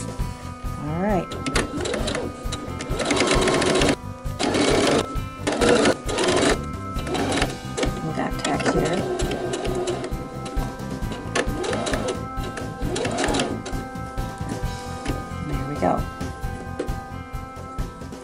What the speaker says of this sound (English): So you're going to sew very close to the edge of the straps, and we definitely want a back tack.